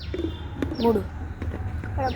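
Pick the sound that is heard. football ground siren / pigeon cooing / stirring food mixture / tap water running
pigeon cooing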